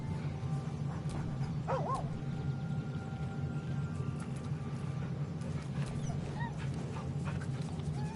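A dog close by lets out a couple of high whining yips among low, faint background rumble and scattered clicks, with no talking.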